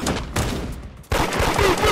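Gunfire in a hood raiding video game: dense bursts of shots crackle through the first second, a brief lull follows, then a louder, sustained fusillade of rapid fire continues to the end.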